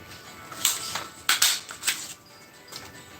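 A paper punch cutting circles from colored cardstock, about five sharp crunching clicks in an uneven rhythm, close and fairly loud against a quiet room.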